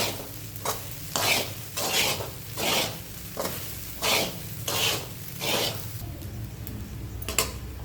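Sago khichdi is stirred and sautéed in a pan after salt goes in. A spatula scrapes in a regular rhythm of strokes over a constant close sizzle. The strokes thin out near the end while the frying continues underneath.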